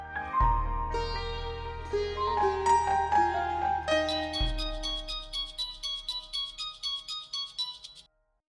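A melodic phone ringtone plays alone: a descending chime phrase with a low bass tone, then a brighter, quicker tinkling pattern that repeats until it cuts off.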